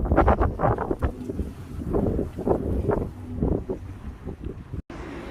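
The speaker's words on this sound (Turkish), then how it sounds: "Çok da rüzgar var. Umarım ışırtılı çıkmıyordur sesim." Wind buffets the microphone outdoors in Rotterdam in heavy, uneven gusts, producing a constant rumbling roar that rises and falls.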